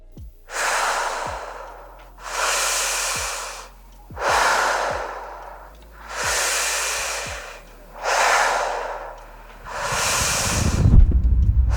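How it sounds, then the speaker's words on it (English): Heavy, labored breathing from the Project Mara teaser trailer: six slow, loud breath cycles in a steady rhythm, close and alone over a low hum, with a rumble rising at the end. "breathing hard as hell"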